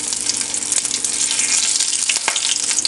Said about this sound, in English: once the mustard seeds sputter, I add in the curry leaves and the rampa